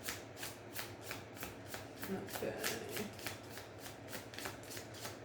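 Tarot cards riffled and shuffled in a steady run of crisp, rapid flutters, close up, with a brief spoken word partway through.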